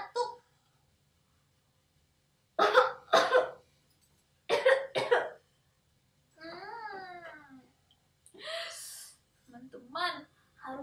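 An adult demonstrates coughing during a children's hygiene lesson in Indonesian: two pairs of sharp, close coughs, followed by a voice and a short rising vocal sound.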